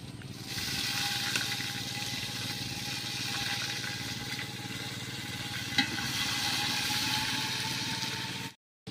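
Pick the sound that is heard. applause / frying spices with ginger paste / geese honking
frying spices with ginger paste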